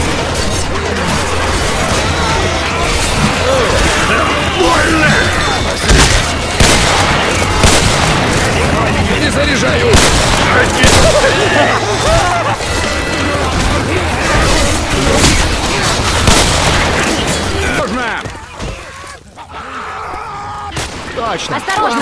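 Rapid bursts of gunfire and booming blasts crowd a loud, busy Left 4 Dead 2 soundscape, lagging, with voices shouting over it before a sudden drop near the end.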